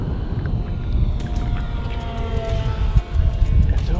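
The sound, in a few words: RC seaplane E-Flite Twin Otter flying at full throttle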